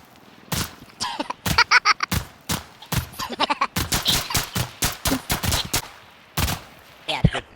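Rapid gunfire from the video game Insurgency Sandstorm, a dense run of loud close shots in bursts with brief gaps, shots fired into a downed player's body.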